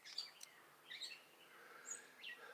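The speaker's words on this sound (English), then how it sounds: "You hear those birds?" Several birds chirp and sing outdoors in short high bursts, fairly faint and spaced apart, with no talking.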